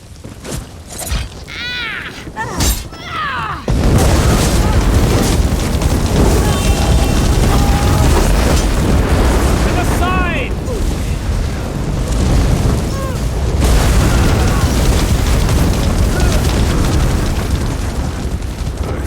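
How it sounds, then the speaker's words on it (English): Tents burning in the video game Elder Scrolls Online, a sudden loud roaring blaze that erupts after a few quiet seconds and then crackles and rumbles steadily, with brief voices heard before and during. "The tents are on fire!"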